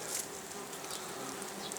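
A dense, continuous hum of many honeybees buzzing close by around a log hive in great heat, steady and moderately loud with no voices.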